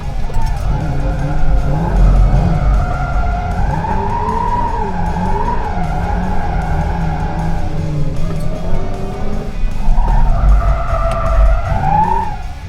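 An electric car fitted with a hydraulic handbrake drifts, its tyres skidding and squealing in long wavering howls that rise and fall continuously, loud and close throughout with no talk.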